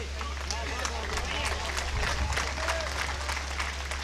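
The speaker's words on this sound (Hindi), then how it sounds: "मैंने विनीत चौहान से पूछा इतनी तालियां क्यों बजवाता है" Audience applause at a Hindi kavi sammelan and mushaira poetry recital in Mehmoodabad, a steady dense wash of clapping from a large crowd lasting throughout, with crowd murmur mixed in.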